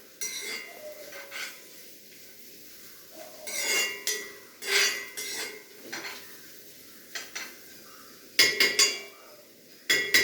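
A spoon stirring curry in a pan, with repeated scraping and clinking bursts of metal against the cookware, irregular and close, with no talk.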